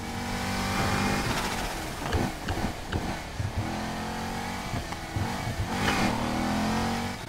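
A V8-swapped Nissan GT-R in Need for Speed Heat revs hard on nitrous, its engine note rising and falling steadily with brief surges throughout, loud and close with no talk.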